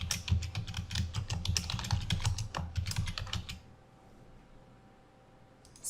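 Someone types a short name on a computer keyboard, a close burst of quick, uneven key clicks for a few seconds that stops and leaves near silence, with one faint click at the end.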